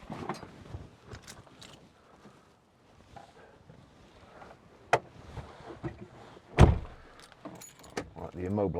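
Keys jangling and clinking close to the microphone while a 2015 Land Rover Defender 90 is unlocked, in scattered rattling bursts with a loud thump partway through and some wind noise outdoors.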